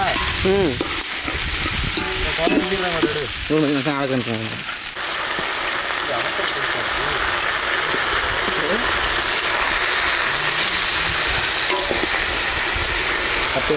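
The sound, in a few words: garlic frying and sizzling in a pan for chicken gravy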